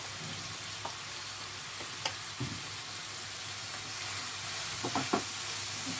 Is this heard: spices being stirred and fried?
yes